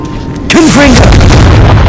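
A Confringo blasting spell in Hogwarts Legacy goes off as a sudden loud boom partway through. A whooshing, ringing spell effect trails after it and the blast keeps rumbling to the end.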